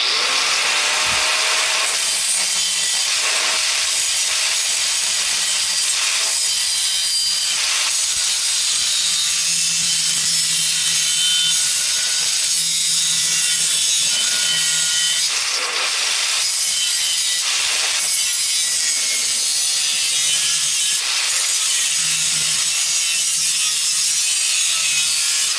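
Steady handsaw-like scraping and rubbing as patch material is cut for an exhaust pipe repair, with repeated strokes and brief pauses, close and fairly loud, no talking.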